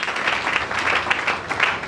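A church congregation claps together in worship, a loud, close wash of many hands with uneven rhythmic swells, no voices clearly standing out.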